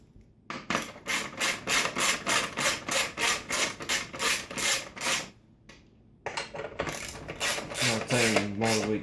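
Ratchet tightening the seat bolts on a Honda CRX, a close, loud run of rapid rhythmic clicking strokes, a brief pause, then another burst of ratcheting.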